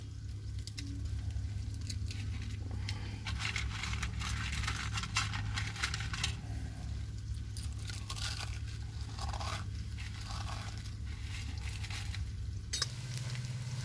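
Chopped onions sizzling and frying in a pan with mashed urad dal and potato in a village kitchen, a steady soft hiss with occasional stirring scrapes, faint and close, no talking.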